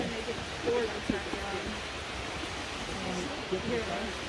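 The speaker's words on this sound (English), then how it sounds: "It's just like never-ending water. The sound of it." Ocean waves wash in as a constant broadband roar of surf along the California coast. Faint voices murmur intermittently over the steady water noise.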